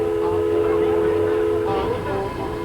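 A steam locomotive of the Sugarcane Train on Maui sounds its whistle in one long, loud, steady blast that holds for the whole stretch, with a train rumbling underneath.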